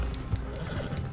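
Quick, faint hoofbeats patter in a steady clip-clop rhythm of a galloping horse in the video game Red Dead Redemption Online, over a low background hum.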